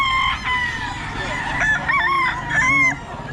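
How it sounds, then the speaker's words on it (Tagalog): Roosters crowing at a gamefowl market, several long crows overlapping close by with occasional clucks, loud and dense against a busy background. "Maraming manok dito ngayon, si Boss Randy"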